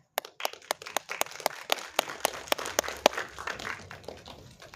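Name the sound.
audience applause at film premiere gala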